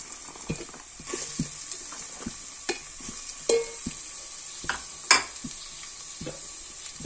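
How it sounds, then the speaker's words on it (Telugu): Onions sizzle and crackle in hot oil in a cooking pot, with repeated scraping stirs of a spoon across the bottom, close up and steady, and no one speaking. "ఉల్లిపాయలు వేసుకుని ఇలా తిప్పుకోవాలి."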